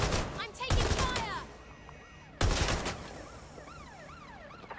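Bursts of automatic gunfire in Watch Dogs Legion, loud volleys near the start and again midway, with police sirens wailing in the background of the fight.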